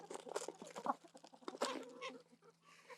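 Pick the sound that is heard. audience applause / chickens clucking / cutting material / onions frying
chickens clucking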